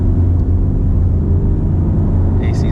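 A 2016 Camaro SS V8 pulls hard in second gear in sports mode, a loud, steady low engine roar rising under acceleration from inside the car, with a faint high whine near the end.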